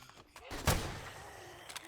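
A single gunshot cracks in the survival video game 7 Days to Die, a sharp, close report with a brief rumbling tail, followed by faint clicks and no speech.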